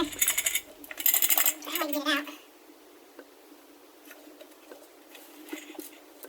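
A small plastic knockout plug drops and rattles inside a new InSinkErator garbage disposal, giving a quick burst of bright clattering near the start before fading into quiet room noise.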